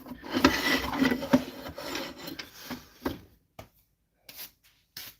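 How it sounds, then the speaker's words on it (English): Rapid rasping strokes of wood being sanded by hand, up close, then tapering off into a few short scrapes separated by silence. "Sanding"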